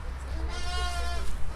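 A lamb or sheep bleats in a pen on a rural farm during lambing season, a wavering, harmonic cry held for about a second over steady low background noise.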